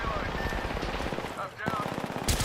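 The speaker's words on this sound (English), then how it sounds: "Shots fired and they're hitting me." Rapid video-game gunfire crackles in fast automatic bursts, with a brief gap midway before the shooting resumes and a sharper shot near the end, under a voice talking.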